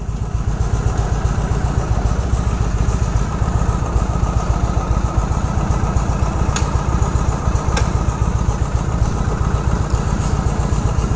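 A restored 1970 Harley-Davidson FLH idles close by with a loud, steady, rhythmic low thumping that keeps up throughout, with no voices.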